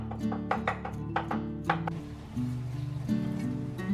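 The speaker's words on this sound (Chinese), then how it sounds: "然后再给它剁成肉末。" A cleaver chops pork foreleg meat into mince on a board, sharp rapid strikes in quick bursts, then softer steady chopping, close and alone.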